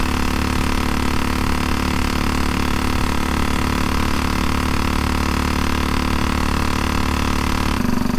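A 1934 Velocette KTT motorcycle engine runs close and loud, a steady droning thrum with a rough, even pulse that holds throughout, with no talk.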